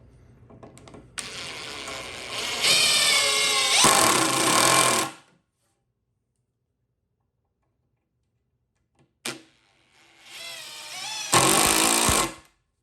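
A drill drives screws into a wooden workbench in two bursts, the motor winding up and labouring under load, separated by a long silent pause and a brief click.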